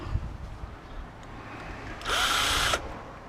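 Power drill driving out screws from an LED flood light: one short whirring burst of under a second, fairly close, after a stretch of quiet handling noise.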